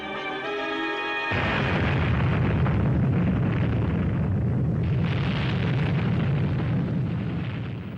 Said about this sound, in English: A 300-foot missile about to explode in the atmosphere.